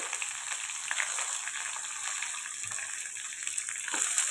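Chopped green chillies fry in hot oil in a pan, giving a steady broadband sizzle with crackling bursts, close and fairly quiet, with no one talking.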